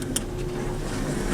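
Steady low hum and faint mechanical whir of a 1980s Dover traction elevator riding up a single floor in an office building, continuous and even with a brief tick near the start.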